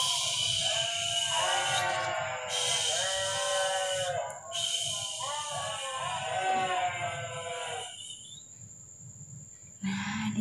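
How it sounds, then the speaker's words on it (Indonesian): Several sheep bleat close by in a run of wavering, overlapping calls lasting several seconds, then fall quiet as a steady high hiss lingers. "Wah, dombanya bunyi-bunyi."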